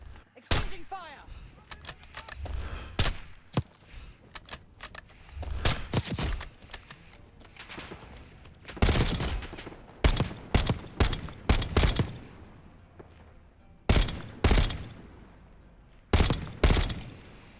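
Gunfire exchange in the video game Call of Duty Black Ops 6: loud, close bursts of shots in irregular clusters, some rapid like automatic fire, separated by short lulls over a low background rumble.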